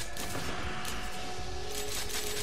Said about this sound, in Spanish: Me están reventando a tiros